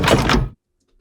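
Spaceship landing gear extending as a sound effect: one short, dense mechanical whoosh and thunk lasting about half a second, loud and close, then cutting off to silence.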